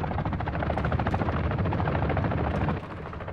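Helicopter rotors in the Warzone DMZ video game thump in a fast, dense chop that stays loud and steady throughout, with faint gunfire-like cracks mixed in and no talking.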